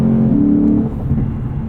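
A 2019 Lexus RC F on the road, its engine revving hard under acceleration, a loud close growl with a brief dip as it shifts.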